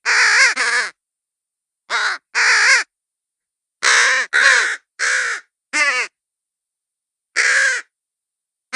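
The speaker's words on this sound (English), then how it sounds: "Do people just sit and listen to birds like this all the time?" Crows calling in a series of loud, harsh caws, grouped in short bursts of two or three with pauses between, close and clear with no talking.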